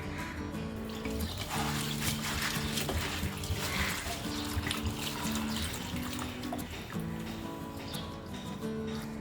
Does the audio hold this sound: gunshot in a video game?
no